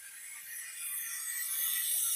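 A vacuum bleeder pump draws brake fluid from a loosened bleeder on a Subaru, giving a steady, close hiss of suction that builds slightly in loudness and runs alone without talk.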